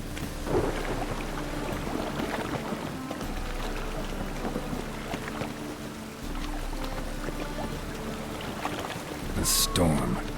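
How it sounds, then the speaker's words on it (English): Storm in The Witcher 3: Wild Hunt, with low rumbling thunder and rain noise rolling steadily, faint voices underneath, and a sharp loud crack near the end. "The storm, damn it."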